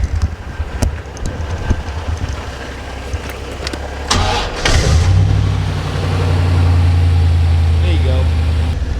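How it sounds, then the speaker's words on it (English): A C4 Corvette engine cranks and fires up, then settles into a steady, loud low rumble close by, preceded by some clattering handling noises. "let's start the Corvette."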